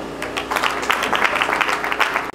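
A church congregation applauds steadily, dense overlapping claps sustained throughout with no voice above them.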